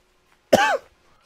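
A single short, sharp cough close to the microphone, one abrupt burst amid near silence.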